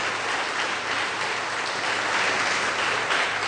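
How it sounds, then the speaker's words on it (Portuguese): Church congregation applauding during a communion service, a thick, continuous wash of clapping at an even level, with a faint low hum underneath and no speech. "E dê uma forte salva de palmas para o Senhor Jesus."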